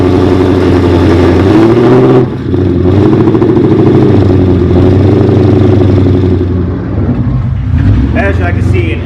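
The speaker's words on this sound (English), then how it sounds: "the Mustang is still warming up. It's cold, hasn't been started in a couple of days." A 1200-horsepower Ford Mustang GT idles loud and close while warming up from a cold start after sitting for days, with a deep, lumpy, steady rumble, one brief dip and small revs near the end.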